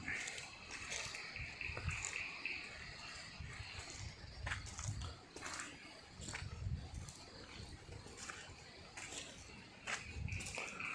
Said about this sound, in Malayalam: ആ വെള്ളം വീഴുന്നതിൻ്റെ സൗണ്ടാണ് നമ്മളങ്ങ് മുകളിൽ കേൾക്കുന്നത്